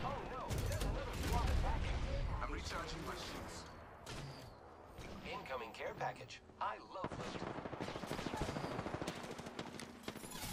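Video game guns fire in loud, rapid bursts and heavy single shots with occasional booms, while a voice speaks over the shooting.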